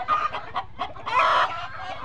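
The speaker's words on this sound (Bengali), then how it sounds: "দেখেন কত সুন্দর সুন্দর মুরগি, মুরগি দেখেন কত বিভিন্ন মুরগি" Several chickens cluck at a poultry farm house, a busy run of short overlapping calls that swell into a louder, drawn-out squawk near the middle before easing back to steady clucking, close and clear with no talking.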